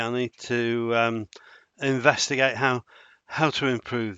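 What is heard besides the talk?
None of the usual background noises is heard.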